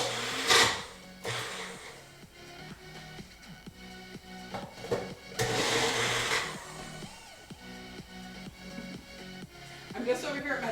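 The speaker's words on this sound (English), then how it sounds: "Now I'm just gonna blend." Kitchen blender blending thick peanut butter, whirring in short bursts and pulses with the motor labouring, while a person talks over it.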